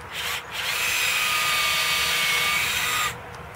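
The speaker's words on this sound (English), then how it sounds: "And then I'm going to take my drill" A power drill runs steadily for roughly two and a half seconds as it bores into a tree trunk, loud and close, preceded by a brief start-up burst and ending abruptly.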